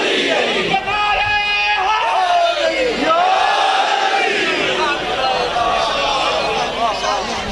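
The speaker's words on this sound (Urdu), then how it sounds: "دل دا جانی علی علی کے نعرے" A large crowd chants in unison with loud, rhythmic, sustained shouting, the voices rising and falling together at close range throughout.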